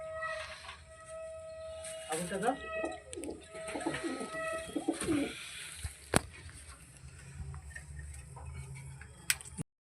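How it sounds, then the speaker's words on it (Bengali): A high-flyer pigeon in a home loft gives soft, rolling coos amid light ticking and shuffling sounds, with a voice talking quietly nearby. "এই একটা পায়রা"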